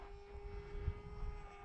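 An E-flite Aeroscout RC plane in flight gives off a steady, faint motor drone with a constant whining tone, holding level throughout with no talk over it.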